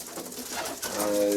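Show pigeons coo softly and repeatedly at close range in a loft during moulting season, a low, throaty burbling that continues throughout the brief moment.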